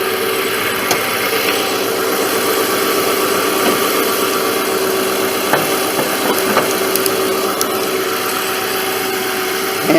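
Gen1 1993 right-hand-drive Subaru Legacy L wagon with a 2.2 liter four-cylinder engine, idling under an open hood; a steady, close, even engine hum with light mechanical ticking and a few faint clicks, no talk.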